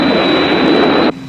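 Thunderbird 1, the rocket aircraft from Thunderbirds, roars with a loud, steady, broadband engine blast carrying a high whine, which cuts off abruptly near the end; no talk.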